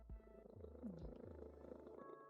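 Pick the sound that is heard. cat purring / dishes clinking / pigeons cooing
cat purring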